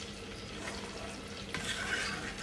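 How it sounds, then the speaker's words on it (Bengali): Food frying crisp in a covered pan over medium heat, giving a steady close sizzle with soft stirring noises that grows brighter and louder partway through, with no talking. "এটা একদম মিডিয়াম আঁচে ঢেকে ভালো করে কড়া করে ভাজবো।"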